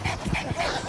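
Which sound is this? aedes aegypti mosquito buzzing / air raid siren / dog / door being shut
dog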